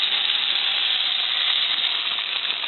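Wontons frying in a pot of hot oil give a steady, even sizzle and hiss that holds unbroken throughout, fairly close and with no talking over it.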